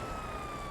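Police siren on a Buffalo STX cruiser in a video game, a steady tonal wail sounding close and continuous with no talk over it.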